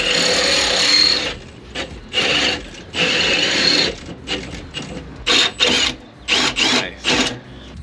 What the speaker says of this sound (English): we do have to drill out the upper control arm for them to fit